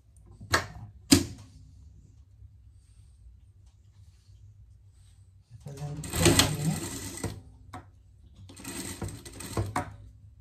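A sewing machine stitching a fabric pet dress runs in short bursts, two brief clicks early, then two longer whirring runs after a pause, close and moderately loud.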